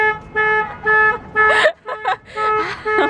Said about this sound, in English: There were definitely 3 car alarms going off at one point.